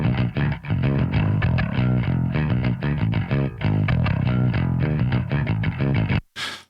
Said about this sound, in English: So the bass amp, without any processing, sounds like this.